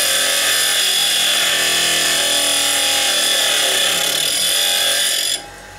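A loud, continuous high-pitched whine of a power drill boring into a center-punched old clutch pressure plate, steady for several seconds before stopping abruptly.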